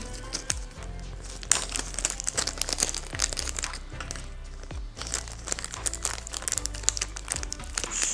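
A plastic bag crinkles and rustles continuously and close by, with sharp crackling bursts and no voices.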